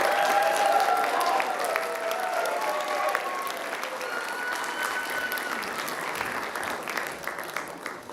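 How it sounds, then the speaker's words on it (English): A crowd at a livestreamed holiday production applauds warmly, clapping loud at first and then settling into a steady, slowly fading patter with a few scattered voices. "Let's give everybody a big round of applause."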